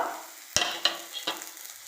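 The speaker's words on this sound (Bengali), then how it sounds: "এভাবে নেড়ে নিচ্ছি আদাটা দিয়ে।" Spices and ginger being stirred as they fry in a pan for a rohu fish curry, with a few sharp spatula scrapes over a soft, steady sizzle.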